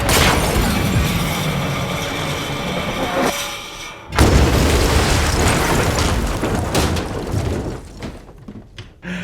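Explosions in an action movie about bombs: a rolling loud blast with rumbling debris, a sudden cut, then a second heavy boom that decays into crackling noise, close and intense.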